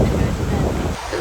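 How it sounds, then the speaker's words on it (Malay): Strong wind buffeting the microphone at a seaside spot by a bay and bridge, a loud, rough continuous rumble that eases slightly near the end, with no clear voices. "Tu, berangin."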